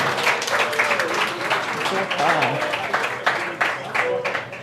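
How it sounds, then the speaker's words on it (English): Studio audience clapping for a podcast guest during a milestone 200th episode, a dense steady round of applause with a voice cheering over it. "Look at it, all disingenuous the way they're clapping for you"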